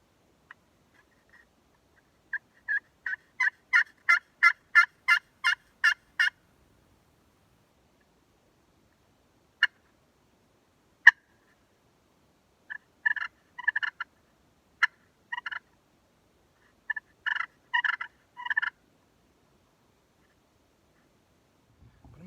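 Wild turkeys gobble in answer to calling, a rapid rattling burst first, then scattered single notes and several more gobble bursts, fairly close with quiet gaps between.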